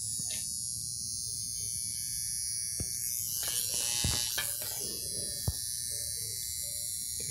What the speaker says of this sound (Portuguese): Vou mostrar para vocês aqui, ó, como a maquininha funciona.